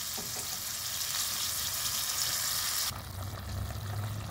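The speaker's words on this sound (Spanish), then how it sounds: "ya tenemos hirviendo acá, solamente vamos a verificar el sazón de la sal" A pot of jalapeño and vegetable escabeche boils with a steady bubbling hiss close by, then the sound shifts to a lower, softer simmer partway through.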